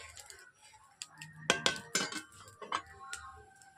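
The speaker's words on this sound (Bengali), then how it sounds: "এইভাবে আমি কড়াইতে নেড়ে নিচ্ছি।" A utensil scrapes and clinks against a wok while cauliflower kofta curry is stirred, giving a few sharp metallic knocks at close range in a quiet kitchen.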